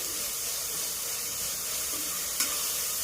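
Eggplant with coriander leaves sizzles steadily in a hot pan for baingan bharta, a constant dense frying hiss up close with a faint stir.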